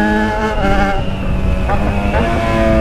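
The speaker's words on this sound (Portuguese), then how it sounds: "Tô acelerando a moto, isso sim." A Yamaha XJ6 motorcycle engine revs loudly and steadily, its harmonic drone rising and falling in pitch with a few throttle surges, close by and continuous.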